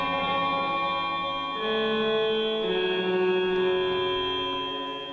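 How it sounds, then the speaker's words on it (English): A guitar played through a Line 6 Helix with a delay and ring modulator effect rings out in sustained, metallic, bell-like tones, a few chords changing in succession and decaying at the end, with no talking. "we have a delay with a ring modulator"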